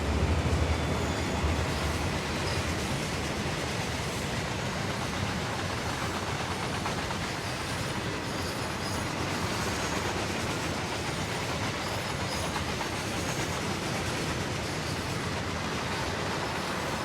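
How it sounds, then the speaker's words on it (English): A coal train passes in the Train Sim World game, a steady broad rumble with faint rhythmic clatter that holds at a constant loudness throughout, with no talking. "Here comes the coal train."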